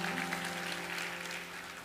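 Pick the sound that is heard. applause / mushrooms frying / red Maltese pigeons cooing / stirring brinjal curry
applause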